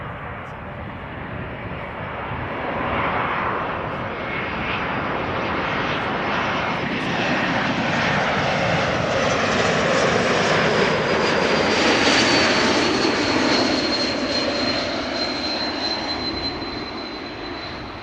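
An airliner from Paris Charles de Gaulle lands at Amsterdam Schiphol with a loud, continuous engine roar that builds and holds, and a high whine rises toward the end.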